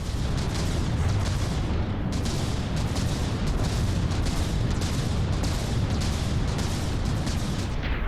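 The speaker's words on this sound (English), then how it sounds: "These guns are so incredibly loud." Battleship turret guns fire in the naval combat game From the Depths as a dense, continuous roar of rapid booming blasts layered over a heavy rumble, loud throughout with no talking.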